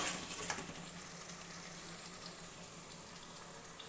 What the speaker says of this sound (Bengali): এবার দিয়ে দিচ্ছি পেস্ট করে রাখা মশলাটা। মশলাটা একটু ভেজে নেব